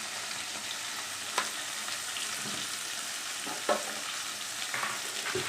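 Steady sizzling of tomatoes sautéing in a pan with turmeric, with a few scraping stirs, close and fairly quiet, no voices.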